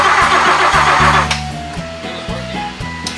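A 1966 Mercedes-Benz 600 Grosser luxury sedan engine cranking and catching, with a loud starter whine and a rising engine roar up close, followed by uneven rhythmic mechanical pulses as it settles.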